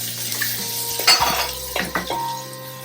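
Shallots, green chillies and garlic sautéing in a pan for a prawn and long bean stir-fry: a steady sizzle with a few sharp clinks and scrapes of a spatula against the pan, close and moderately loud, without speech.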